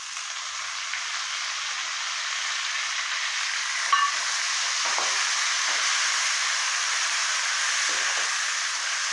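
Garlic frying to golden brown in a pan as mint goes in, a soft even sizzle and hiss throughout with a few faint stirring knocks, no talking.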